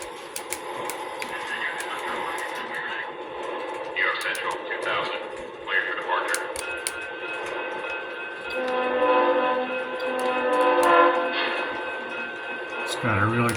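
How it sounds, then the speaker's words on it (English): A Lionel Alco PA model train engine runs with a steady rumbling motor sound that surges, mixed with electronic engine and horn effects, while someone talks over it throughout. "Nice sound, nice rumbly Alco sound with a surge."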